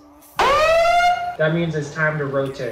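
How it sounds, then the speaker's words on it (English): A loud electronic siren rises and wails once at an outdoor multi-game event, signalling players to rotate between games, then a voice speaks over the fading tail. "anytime you hear a siren that sounds like this"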